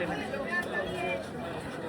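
Crowd chatter at Jallianwala Bagh memorial in Amritsar, a steady, diffuse babble of many voices at moderate distance, filling the space without any single voice standing out.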